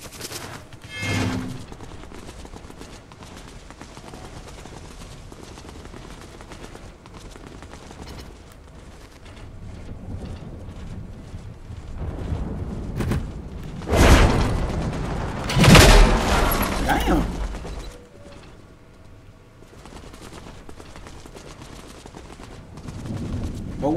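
Video game gunfire crackles in repeated bursts: scattered shots early on, then loud, heavy volleys in the middle, with quieter shooting in between.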